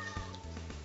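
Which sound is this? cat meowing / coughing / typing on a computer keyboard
cat meowing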